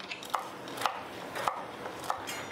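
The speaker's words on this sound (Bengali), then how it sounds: "এবারে আমি একটা ধনেপাতা নেব। এটাকে আমি কুচি করে নেব, এরকম রাফলি চপ করে নেব" Coriander leaves roughly chopped with a knife on a board in a home kitchen, four evenly spaced crisp taps under a faint background hiss, with no talking.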